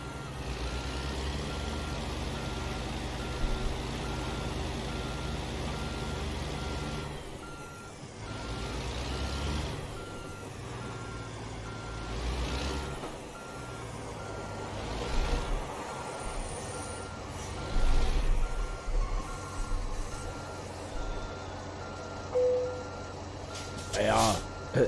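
A truck in American Truck Simulator backs up with a low engine drone and sparse intermittent tones, pitched sweeps rising and falling as it shifts, with a hiss near the end; voices talk over it.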